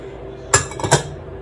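Spices being mixed in a bowl while preparing pulled pork, heard as a few quick clinks and knocks of a utensil against the bowl, close and fairly loud against quiet background.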